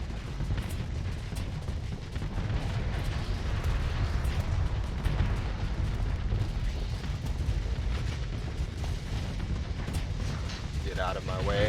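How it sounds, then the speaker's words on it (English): Continuous heavy booming and rumbling gunfire from thermal pulse cannons in the modded Starsector Nexerelin space combat game, dense and steady throughout without any clear pause. "Activate my thermal pulse cannons."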